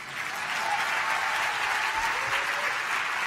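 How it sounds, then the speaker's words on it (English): Audience applause at a plenary session on activism, a steady sustained clapping from a full room that fills the whole stretch without voices on top. "Yeah, we can clap for her."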